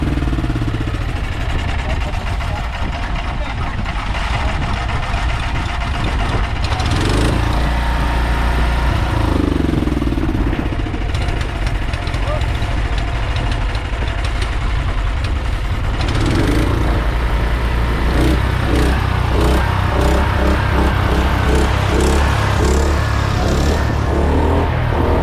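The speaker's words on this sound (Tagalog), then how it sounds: "pangit talaga ng andar ng generator" Generator engine running roughly on a fishing boat, a loud continuous rumbling drone with uneven surges throughout, heard up close alongside intermittent voices.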